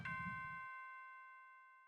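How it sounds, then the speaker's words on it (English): School bell chime from a visual novel video game, a single bright bell-like strike that rings on and fades slowly, alone and quiet with no talking. "Ah, the bell."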